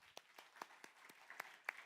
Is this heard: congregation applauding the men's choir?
yes